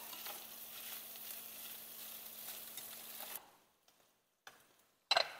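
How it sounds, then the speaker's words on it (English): Diced pepperoni sizzles and browns in butter in a pan, a close, even frying hiss that fades out after a few seconds, leaving a few faint clicks. "you're just going to want to brown your pepperoni"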